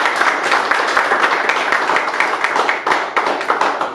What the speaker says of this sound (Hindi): मैं एक बार जबरदस्त तालियां चाहूंगा डॉक्टर सागर जोशी जी के लिए